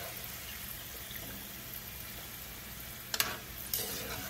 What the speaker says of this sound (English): I'm going to take our fries out of here.